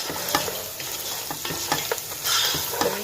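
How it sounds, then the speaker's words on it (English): Spices get stirred into sizzling meat in a pan while cooking a brown rice pilau, with a utensil scraping and clicking in an irregular rhythm over a steady close fry. "Just stir those spices in so it mixes with all the meat."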